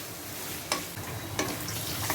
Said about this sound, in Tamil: வெங்காயம் நல்லா வதங்கிக்கிட்டு இருக்கு